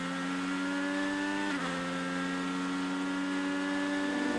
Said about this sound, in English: Listen to him go through the gears here on the front stretch.